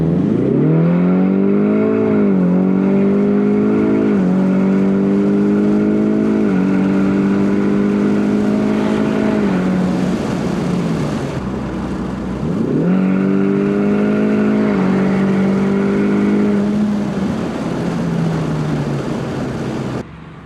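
A Ford Mustang EcoBoost engine drones and revs steadily, pitch climbing through gears and dropping between shifts, close and loud throughout.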